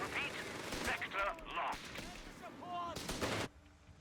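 Bursts of heavy machine gun fire in the Company of Heroes 3 strategy game, firing at British engineer infantry and a Dingo scout car, mixed with other battle effects and a commentator talking over it.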